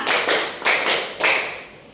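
Hands clap three times in a slow, even rhythm during a classroom lesson on clap patterns, each clap a sharp, close strike that decays before the next.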